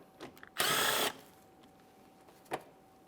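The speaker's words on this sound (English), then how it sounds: "Now let's remove that 10mm mounting bolt." A power tool, likely a drill or impact driver, spins out a 10mm mounting bolt on the front inner fender liner of a 2008-2017 Mitsubishi Lancer in one loud half-second burst, then goes quiet apart from a faint tick and a clunk.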